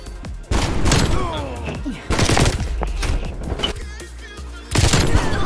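Gunfire from dual magnums in a video game comes as loud, rapid clusters of shots with short gaps between them, heard alongside game noise.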